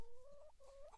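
A chicken clucks inside the VRChat game, two short warbling calls in quick succession, quiet and alone.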